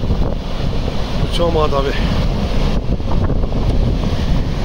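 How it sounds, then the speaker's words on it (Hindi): Waterfall at Manali in rushing flow, heard as a steady loud broadband roar mixed with heavy wind buffeting on the microphone, while someone speaks briefly over it. "मनाली फॉल देखो अरे इतना बड़ा हो गया पानी"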